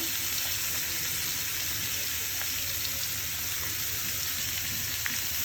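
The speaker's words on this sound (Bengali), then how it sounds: "বন্ধুরা, আমাদের কচুটা ভাজা প্রায় শেষের পথে।" Taro frying in a pan with onion, coriander leaves, garlic and chili, giving a steady, dense sizzle that runs unbroken throughout with faint stirring scrapes and no voices.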